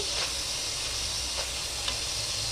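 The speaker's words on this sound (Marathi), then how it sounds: "एका आपण वांगी परतून घेतो आहे छानपैकी आपण आता त्याला खरपूस परतून घेणार आहोत" Brinjal pieces fry in a pan for a green masala dish, a continuous close sizzle with faint stirring ticks and no talk.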